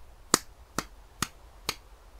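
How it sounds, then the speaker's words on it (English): Four light hand claps, soft and evenly spaced about half a second apart, sharp and close with quiet background between them. "I did light claps because I don't want to peek my microphone"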